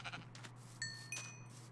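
Sheep in a Minecraft-style video game bleat a few times, short faint cries standing out over a quiet steady low hum.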